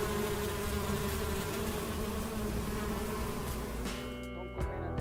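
A dense, continuous buzz of many honey bees at an apiary fills the air, steady and close.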